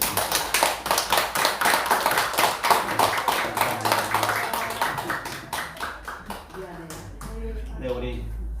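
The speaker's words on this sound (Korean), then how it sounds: "환영의 박수 한번." Welcoming applause from a church congregation during a Sunday service, a dense run of many hands clapping steadily for several seconds before thinning out, with a voice speaking briefly at the end.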